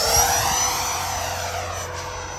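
A Freewing F-22 RC jet with twin 90mm ducted fans roars steadily overhead, its loud whooshing engine tone fading slightly as it passes.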